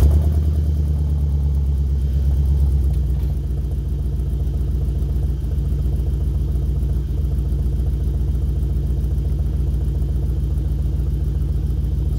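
An Ecto-1 car with an LS engine swap idles steadily and close by, a low, even rumble with a faint tick running unbroken, a little rougher and louder at first before settling.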